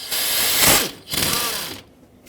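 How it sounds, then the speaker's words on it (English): A hand ratchet clicks as it breaks loose the idler pulley bolt on a 2008-2010 Ford F-250 6.4L diesel, two close bursts of metallic ratcheting in quick succession. "you can just use a ratchet and an extension and break that bolt free for the idler"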